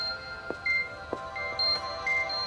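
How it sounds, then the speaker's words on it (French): An electronic telephone rings in a domestic scene of a TV drama, with short, high, chirping tones repeating in an uneven pattern over a quiet room with soft knocks. "Hé, Gaillet, est-ce que tu peux répondre au téléphone?"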